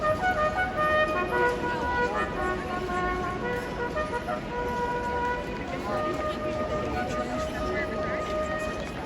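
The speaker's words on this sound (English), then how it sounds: "the sounds of Coach Horn" A coach horn sounds in sustained, multi-tone honks over a noisy outdoor crowd, with people talking throughout.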